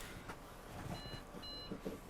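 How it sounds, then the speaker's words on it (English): A Dell Inspiron 2020 all-in-one computer with no RAM installed gives two short, faint electronic beeps over a low background hum. "it's beeping because we do not have the RAM on the board"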